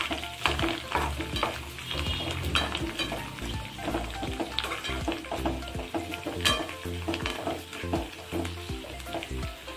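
Coriander stirred into lemon rice in a hot pan, a spoon scraping and turning the rice in steady repeated strokes over a continuous close sizzle, with no talk.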